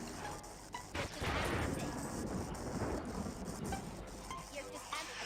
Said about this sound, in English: let's go for another thunderclap